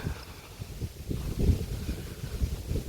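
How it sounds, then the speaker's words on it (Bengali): Strong gusty wind before rain buffets and rumbles against the microphone in uneven bursts on a village path, with faint rustling beneath and no talking. "অনেক জোরে বাতাস বইছে"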